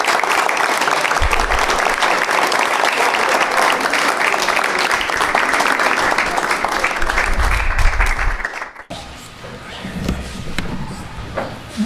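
An audience at a cultural talk gives loud, sustained applause for an architect, with clapping filling most of the clip before it gives way to quieter room sound and a voice.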